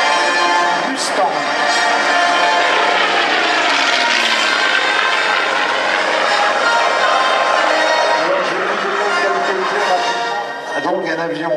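A propeller warbird such as a Spitfire or Mustang flies at the La Ferté-Alais airshow in 2016. Its engine drones loudly and continuously, rising and falling as it passes overhead, with a voice audible over the sound.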